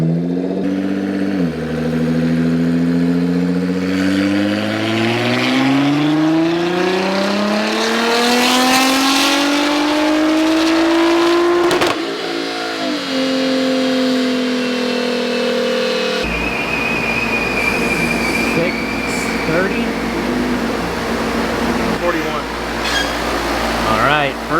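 Full bolt-on Nissan GT-R on E85 making a dyno pull: loud engine revs climbing steadily through the gears with brief shift breaks, an aggressive roar that drops off near the end, with voices in the background.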